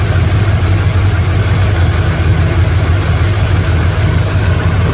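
A 1970 Chevrolet Chevelle L34 SS V8 with an Edelbrock carburetor idles at a cruise night, a steady, loud low rumble throughout with no talk over it.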